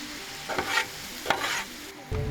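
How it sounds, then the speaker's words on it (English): Apples tossed in butter on a Blackstone griddle, with a steady close sizzle and a few scraping, stirring strokes of a spatula that flare up, ending in a louder burst of frying. "I'm going to toss them every so often until they get soft and tasty."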